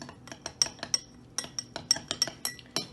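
A spoon clinks repeatedly against a glass while stirring chocolate chips into milk, a steady run of about a dozen bright, close taps in an irregular rhythm, with no talking.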